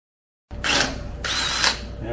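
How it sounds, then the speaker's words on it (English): A power drill fitted with a 1/4-inch bit runs in two loud, sustained bursts, each whining steadily for nearly a second with a short dip between them, close to the microphone after an initial silence. "try drilling this again"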